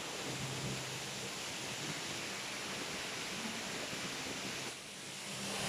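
Steady, dense roar of a big waterfall outdoors, a continuous broadband rush of falling water that stays loud throughout with a brief dip near the end.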